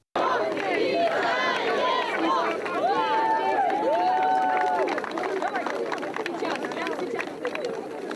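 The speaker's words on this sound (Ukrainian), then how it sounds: "Прибуття автобусу зустрічають гучними оваціями." A crowd gathered with a military band to welcome a bus of returning Paralympic athletes cheers and shouts loudly, with excited voices, whoops and chatter mixing into a continuous roar throughout.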